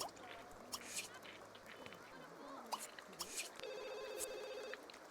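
Telephone ringing in The Sims 2, a repeated electronic ring pattern heard briefly among game sound effects and chatter, with a voice talking over it.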